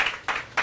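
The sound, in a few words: audience applause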